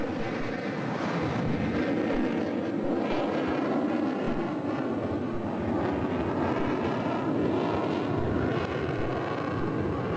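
A Sukhoi Su-27 fighter with two Saturn Lyulka engines flies at an air show, giving a continuous broad roaring rumble from a distance, steady in loudness, with no talking.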